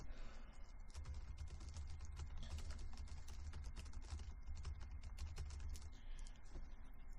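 Rapid, steady clicking of keys on a computer keyboard, close up, continuing without pause over a low background hum.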